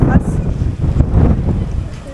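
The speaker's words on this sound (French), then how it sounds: "Il y a beaucoup de vent." Strong gusts hit a microphone at a roadside stop near a lake in Bali, producing a heavy, buffeting low rumble that swells and dips in close, loud bursts.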